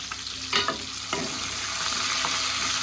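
Cumin seeds, two halved chillies and onions fry in a pan in a home kitchen, giving a steady close sizzle with a couple of sharp stirring scrapes early on.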